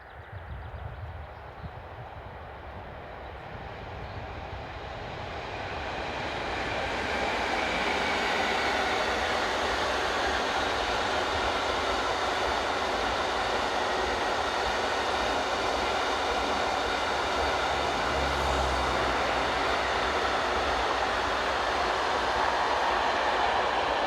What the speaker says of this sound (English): Heading east is Class 186 electric number 2842 on a set of steel empties